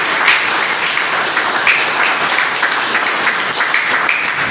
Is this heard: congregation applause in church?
yes